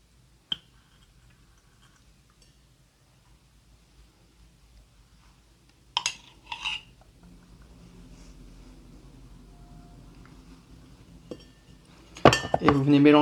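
A bar spoon clinks against a glass while acacia honey is stirred into rum, with a single early tick, a short burst of clinking midway and louder rapid clinks at the end, over a quiet background.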